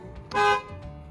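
A single short, bright honk of a car's regular stock horn sounds close by, lasting a quarter second against a low idling hum.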